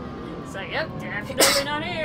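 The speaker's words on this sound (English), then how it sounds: "Sorry about that. I sneezed." One sudden sneeze from a gamer playing Ratchet and Clank, loud and close, rising over game sounds and music, with someone talking just before it.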